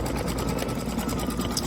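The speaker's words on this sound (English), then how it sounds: "we won't sit here the whole time watching it stitch" An embroidery sewing machine stitches a snowflake design, its needle running in a fast, steady mechanical rattle with a constant motor drone, loud and close throughout with no pauses.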